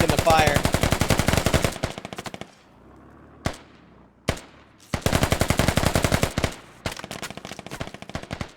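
SAW machine gun fire in the video game Squad comes in long rapid bursts, loud and close, broken by brief pauses and a few single shots.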